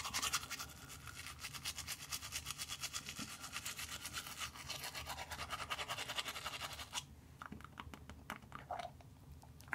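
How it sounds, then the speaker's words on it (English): Teeth are scrubbed with charcoal toothpaste in fast, steady bristle strokes close to the mic. The brushing stops abruptly near the end, leaving a few softer scrapes. "it's better to get more teeth brushing up and down than you do side to side"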